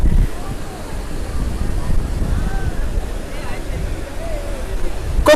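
Sea waves wash ashore at Digha beach, a steady broad surf roar with wind buffeting the microphone, while voices talk faintly in the background.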